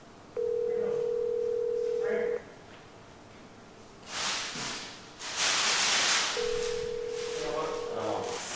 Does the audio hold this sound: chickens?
no